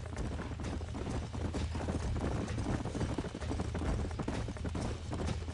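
Hooves clip-clop in a quick, steady rhythm in Red Dead Redemption, several horses moving together at a trot, fairly close and continuous throughout.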